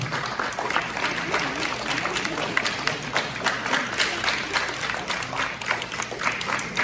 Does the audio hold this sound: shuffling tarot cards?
no